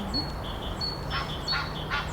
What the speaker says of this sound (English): The park is so green and the birds are so loud.